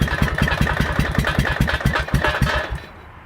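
An 18-19HP opposed-twin engine running on a gasoline-soaked rag stuffed in the airbox, a loud, close, rough chugging with rapid uneven firing pulses that sputters and dies away in the final half second.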